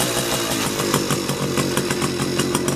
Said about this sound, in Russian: И не шумит моторчик.